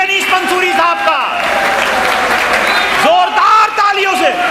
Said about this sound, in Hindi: जोरदार तालियों से इस्तकबाल कीजिए अनीस मंसूरी साहब का